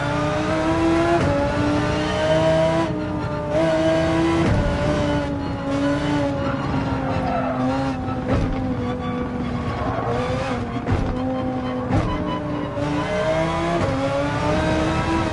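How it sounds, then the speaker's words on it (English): Audi R8 race car engine in a racing video game, revving loudly and steadily with rising and falling pitch through gear changes, a continuous close roar with brief tire squeals and no talking. "the R8 does sound amazing"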